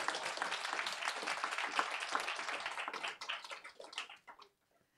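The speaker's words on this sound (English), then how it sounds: "please give her an applause" Applause at an awards presentation for role models: a soft, fairly distant burst of clapping that thins out and stops near the end.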